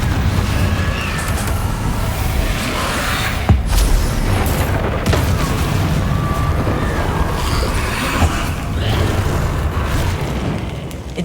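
Confringo spell blasts in Hogwarts Legacy set off loud, dense booming explosions over a constant roar of combat noise, with sharper bursts punching out at several points.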